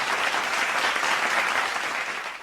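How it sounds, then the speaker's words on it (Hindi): A crowd at a comedy poetry gathering claps in loud, dense applause to welcome a poet on stage, sustained throughout before easing slightly at the end. "जोरदार तालियों में इस्तकबाल करें"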